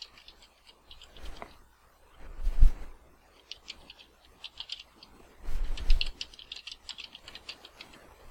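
Light typing on a computer keyboard, scattered soft key clicks in short bursts, with a couple of louder low thumps in between, fairly close and quiet.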